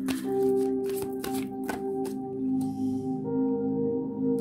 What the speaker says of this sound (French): je vais prendre juste quelques cartes